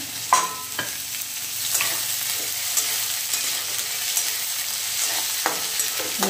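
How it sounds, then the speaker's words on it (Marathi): Onions frying in oil in a pan for a kurdai-and-onion dish, a steady close sizzle broken by occasional sharp clicks of stirring, with no talking. "आता चला याच्यामध्ये मी तेल टाकत आहे."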